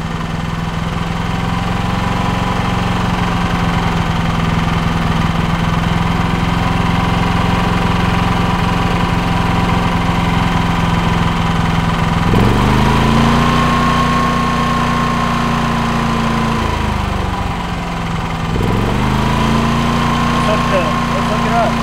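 A steady generator engine drone runs throughout, loud and continuous, with a shift in pitch partway through, and faint talking beneath it.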